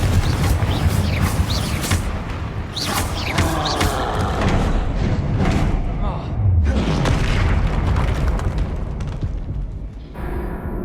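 Confringo blasting spell explosions in the Hogwarts Legacy video game, booming blasts among loud spell-casting effects and game sounds, with voices shouting over the combat.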